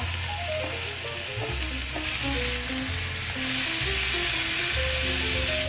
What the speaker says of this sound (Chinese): 把番茄炒軟，金針菇炒出鮮味